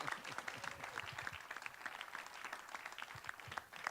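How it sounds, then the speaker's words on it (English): Audience at a community gathering applauding, steady, moderately quiet clapping from a room of people that continues throughout with no one speaking over it. "April Albright, give her a round of applause"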